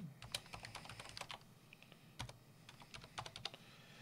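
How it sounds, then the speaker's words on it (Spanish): Fast bursts of keystrokes on a computer keyboard as a long password is entered, close and fairly quiet, with a brief pause midway before typing resumes. "voy a meter una contraseña bastante larga"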